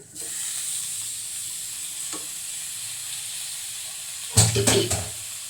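Beef pieces tipped into a hot masala in a small pan hit with a sudden burst of sizzling and spatter near the end, after a long quiet hiss of frying, close and without speech.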